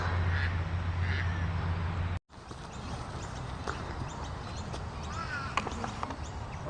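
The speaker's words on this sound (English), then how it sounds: "There's like two over there. Two wood ducks." Wood ducks call during a bird survey at Richmond TAFE. Soft quacking calls come faintly and irregularly over steady outdoor background noise, with a brief dropout partway through.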